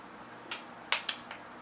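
A Mario Badescu facial mist spray is pumped in a few short hissing bursts, one faint then two sharper, close and quiet.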